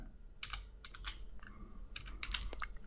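Quiet typing on a computer keyboard, with irregular bursts of clicking keystrokes and brief pauses between them, close and soft, with no voice.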